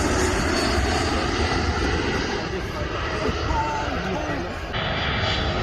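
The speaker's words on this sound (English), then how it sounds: "Saw the Emirates 777-300 landing." Emirates Boeing 777-300 airliner landing, its engine roar steady and loud throughout, a broad continuous rumble with wind noise outdoors near an airport.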